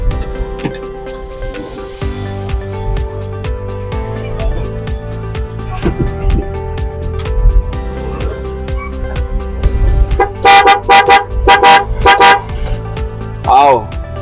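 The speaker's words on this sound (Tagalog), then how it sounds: "Grabe yung busina, ang lakas." Suzuki DA65 4WD van horn sounds as several loud, short honks toward the end, over an idling engine and people talking nearby.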